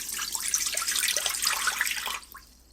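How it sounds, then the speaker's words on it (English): Chicken broth pours into an Instant Pot Duo Evo Plus inner pot, a steady bright liquid splash lasting about two seconds, close and fairly loud, then cutting off to a faint trickle. "Pour in 1 cup of chicken broth."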